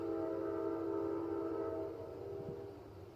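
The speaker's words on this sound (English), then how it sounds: "that's a train going by." A train passing by near a plantation house in Bedford, Virginia, heard as a steady rumbling drone with sustained horn-like tones that hold for a couple of seconds, then ease off slightly as it moves on.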